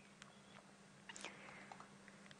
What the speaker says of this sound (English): You can hear the gentle crunching of bone as Karula chews around the rib cage of this female impala